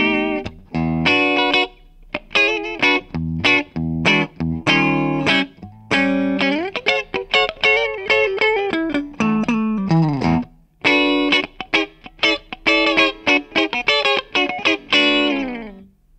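Clean, dry Gibson Theodore Standard electric guitar played with a thin pick plays choppy funk rhythms with crisp muted strums and short single-note runs, steady and upfront with no voices.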